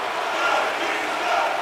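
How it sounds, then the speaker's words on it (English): Dense, steady roar of an arena crowd at a tie hockey game in NHL 25, a broad wash of cheering noise holding level throughout with no clear voices standing out. "You can feel the energy in this crowd."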